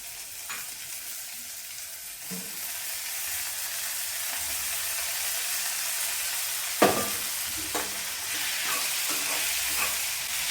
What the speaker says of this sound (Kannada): ಹಾಗಲಕಾಯಿನ ಒಗ್ಗರಣೆಯಲ್ಲಿ ನೀಟಾಗಿ ಫ್ರೈ ಮಾಡಿಕೊಂಡು